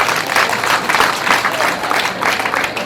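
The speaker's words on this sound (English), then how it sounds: "Let's clap for him." A crowd at a school prefects' handover party applauds, a loud, even burst of many people clapping together that holds throughout.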